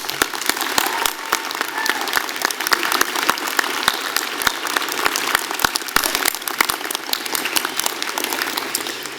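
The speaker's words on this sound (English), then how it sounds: "a big round of applause as well for the faculty on stage for all their support" Applause from the audience at a university convocation ceremony, a dense steady clapping from a large hall crowd that holds loud and even throughout, with no voice over it.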